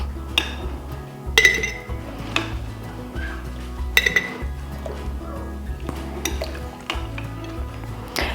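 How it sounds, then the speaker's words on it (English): Peach slices are packed into a glass canning jar, producing scattered close clinks of glass and utensil between soft, wet shuffling and pressing sounds, with a low hum underneath and no speech. "we're gonna choose a jar and we're gonna fill it with peaches and pack it down"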